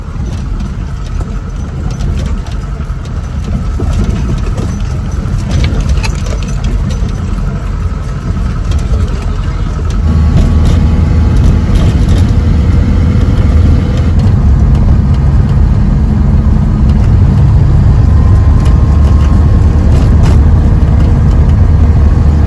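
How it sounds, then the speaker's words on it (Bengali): Large Volvo buses on a damaged mountain road between Shimla and Manali give off a loud, continuous engine drone that deepens into a heavier low rumble partway through, with no talk. "এই বড় বড় ভলভো কিন্তু এখন এখান থেকে যাতায়াত করছে।"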